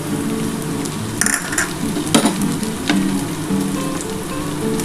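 Chicken pieces dropped into hot ghee for a dhaba-style egg chicken curry sizzle loudly and steadily, with a few sharp crackling bursts and spatters, close and continuous, with no talk over it.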